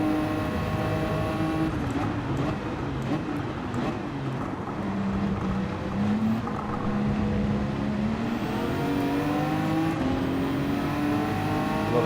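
A Ferrari race car engine in Gran Turismo 7 drones steadily, its pitch rising and falling through revs and gear shifts as other cars run nearby, with no speech over it.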